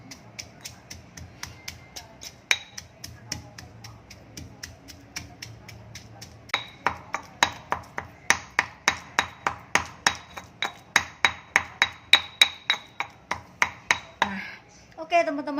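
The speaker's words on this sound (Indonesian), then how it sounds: "Oke, dan saatnya kita tumbuk" Mortar and pestle pounding sugar and other ingredients for a chive, egg and shrimp stir-fry: a long run of sharp, evenly spaced thuds, softer at first and then louder and quicker, each strike ringing briefly, with a little talk early on.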